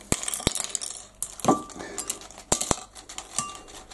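Crispy fried chips clinking and clattering as they are pried out of a Chip Wizard cooker, several sharp clicks spread across a few seconds with softer rustling between, close and fairly quiet.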